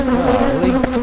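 Close, steady buzzing of honey bees around a hive, with wavering pitch as bees move about and one brief louder flyby near the end.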